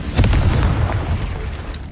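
Confringo spell explosion in the video game Hogwarts Legacy, a loud deep booming burst that rumbles and fades over about two seconds.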